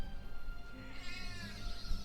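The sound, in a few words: cat meowing in video game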